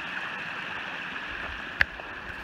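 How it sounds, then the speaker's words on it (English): A small woodland stream with a little waterfall on the Appalachian Trail runs as a steady, soft rushing wash. One brief knock stands out near the end. "Here's another view of that stream. Look at that pretty little waterfall."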